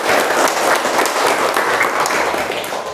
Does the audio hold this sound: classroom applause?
yes